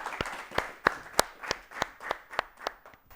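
A small studio audience at a children's quiz show claps in slow, sparse, evenly spaced single claps, about ten distinct hand claps rather than a full ovation, fairly close and moderately quiet.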